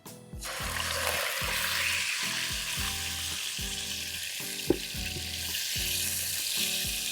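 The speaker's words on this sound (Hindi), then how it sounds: "5 मिनट फ्राई करने के चिकन पिंक से वाइट हो जाए" Chicken coated in ginger garlic paste and brown sugar sizzles steadily in a hot pan, a loud continuous fry with a low rhythmic stirring scrape repeating about once a second and one sharp clink, no talking.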